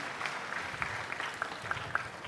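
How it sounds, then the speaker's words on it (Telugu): An audience claps at a government review meeting on stage, a steady spread of applause lasting a couple of seconds with no talk over it. "గట్టిగా చప్పట్లు కొట్టి అభినందించండి."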